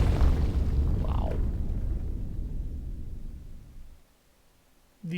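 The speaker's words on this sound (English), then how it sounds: "The explodiest of explosions right there." A large explosion in the video game Monster Hunter Stories 2 booms loudly, rumbles and slowly fades into near silence before another sound cuts in.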